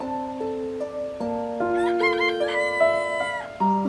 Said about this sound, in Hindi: वाह, मुर्गे की आवाज।